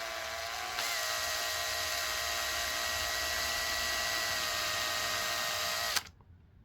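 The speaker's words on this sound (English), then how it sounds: "then we'll grab the drill, same 2mm drill bit, and then just drill slow until the light stops" A drill with a 2mm bit boring slowly into the LED of Ray-Ban Meta glasses, a steady high-pitched whine that starts abruptly, holds evenly for about five seconds, then cuts off.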